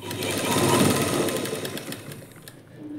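Close, loud sewing machine stitching a lining blouse in one continuous whirring run that eases slightly toward the end, with no talk.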